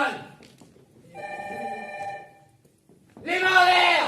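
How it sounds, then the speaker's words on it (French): A telephone bell rings in short bursts with clear ringing tones, moderately close, while voices talk around it. "Téléphone."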